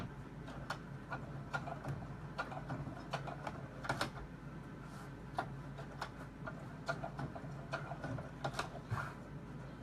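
A sewing machine stitches cork leather with irregular sharp ticks and short clattering bursts over a low mechanical hum, close and fairly quiet, without talking.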